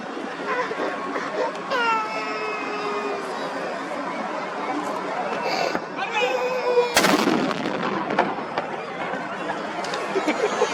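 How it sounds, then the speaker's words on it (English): The iftar cannon in Doha, a modern US-designed gun, fires one loud blast amid a crowd's chatter and background noise, with voices and a whistle-like tone before the boom. "Live TV coverage of the iftar cannon was there, and the modern, US-designed, cannon did not disappoint."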